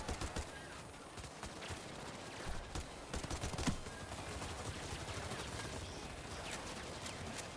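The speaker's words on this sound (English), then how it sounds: "Just shooting kind of randomly down the corridor." Dense gunfire from the video game Payday 3, rapid volleys sprayed down a corridor, sustained and loud with sharp cracks over a constant in-game din.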